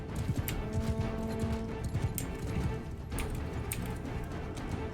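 Horse hoofbeats from the medieval battle game Mount and Blade sound as a rapid, continuous clip-clop of galloping at a steady rhythm, close and fairly loud, with faint battle noise in the background.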